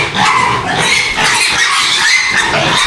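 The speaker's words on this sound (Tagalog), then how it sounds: "Grabe baboy ni Bailito dito." Pigs at a house grunt and squeal close by in rough, overlapping bursts that are loud and continuous.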